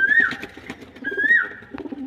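Domestic pigeons in a home loft, with full-tailed, deep-coloured-footed birds, give low overlapping coos close by, while two bright rising-falling whistle-like calls stand out above them.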